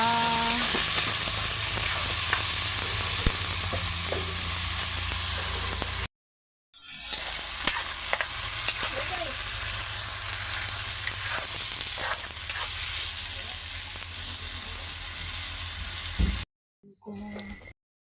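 Tinapa, smoked fish, fries in a pan with a loud, steady close sizzle and some clicking and scraping handling noise. The sound cuts out briefly twice.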